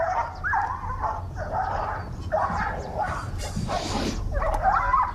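Dogs barking repeatedly in quick bursts at moderate distance, with some whimpering yips mixed in over a steady outdoor background.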